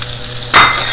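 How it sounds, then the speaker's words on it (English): Diced eggplant drops into hot oil in a pan, setting off a sudden loud burst of sizzling that settles into a steady crackle after a quieter moment. "Now I can add the diced eggplant to it."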